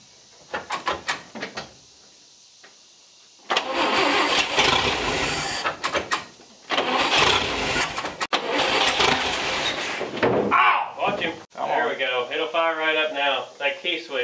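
A Chevrolet Apache truck, a barn find that sat for 20 years, is cranked in several long, loud bursts until the engine catches and runs roughly, with people talking before and after.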